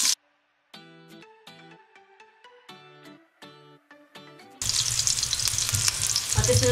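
Garlic and onion sauté in cooking oil in a pan, a loud, dense sizzle bursting in over the last two seconds after a stretch of melodic music with no frying.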